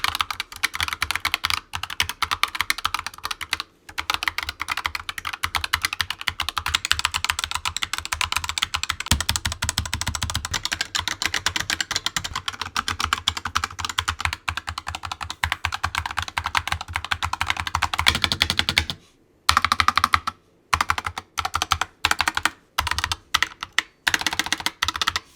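Rapid, continuous mechanical keyboard typing on a Razer Huntsman Tournament Edition, keys bottoming out with a dense clatter close by, alone with no talk, pausing briefly near the end before resuming in short bursts.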